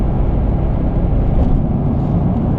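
A Nissan R32 GT-R rented in Japan drives along with a steady, loud low engine drone and road rumble from inside the cabin, with no talking.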